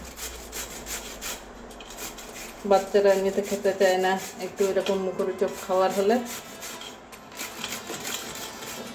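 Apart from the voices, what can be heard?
grating pumpkin by hand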